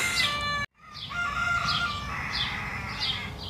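A tiny bantam rooster crows repeatedly outdoors, loud and close, with a brief dropout early on followed by several more strained, rising calls over steady background noise.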